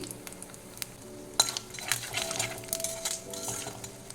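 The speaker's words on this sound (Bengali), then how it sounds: "আবার একটু সর্ষের তেল দিচ্ছি দিয়ে দেবো কালো জিরা দুটো শুকনো লঙ্কা ফাটিয়ে দিয়েছি" Dry red chillies and black cumin crackle in hot mustard oil for a saag and potato dish. Scattered pops and clinks of a metal spoon against the pan sit over a faint sizzle, close and quiet, with no voices.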